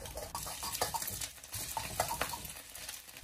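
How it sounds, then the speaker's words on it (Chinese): A metal spatula chops fried eggs into small pieces in a pan with ginger shreds, giving a run of quick scraping clinks and taps at close range over a steady background hiss, with no talk. "用锅铲把鸡蛋切成小块"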